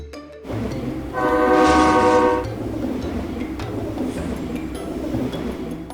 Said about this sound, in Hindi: लेकिन ट्रेन की रफ्तार से रिक्शे के 2 टुकड़े हो गए।